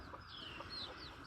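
Small bantam chickens on a homestead cluck softly and steadily nearby, with a few brighter chirping calls rising over a low farmyard background.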